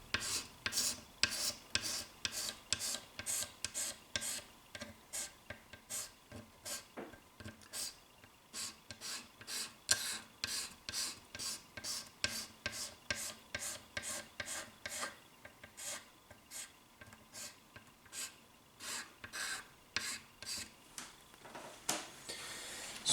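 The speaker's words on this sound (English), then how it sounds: "I'm just going to do the next here again and just place it gently and just scrape back and forth gently." Steady back-and-forth rasping as a tool scrapes along the frets of a Squier Telecaster fretboard during cleaning, dozens of quick rhythmic close strokes repeating evenly with no talk.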